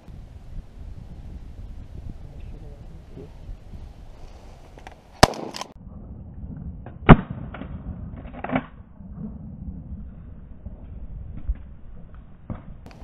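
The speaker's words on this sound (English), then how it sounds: "He's shooting." Shotgun shots during a duck hunt near Canton, Oklahoma, come through as a few sharp, loud outdoor cracks in the middle of the stretch over constant wind noise, with scattered fainter clicks and thumps around them.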